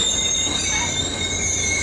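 A southbound Caltrain passenger train passing Santa Clara gives a loud, continuous, high metallic wheel squeal on the rails, sustained over a steady rumble, with no voices.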